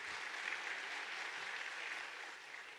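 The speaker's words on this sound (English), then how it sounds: "You can go ahead and clap, yes." An audience at a talk on Nalanda study of mind claps, a faint, distant and even patter of many hands that fades a little toward the end.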